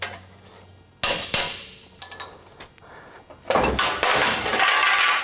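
Several sharp metal hammer blows on a punch, knocking loose a stuck suspension knuckle part on a Toyota Tundra during a 7-inch lift install, striking in irregular bursts with ringing clangs and a flurry of rapid hits toward the end.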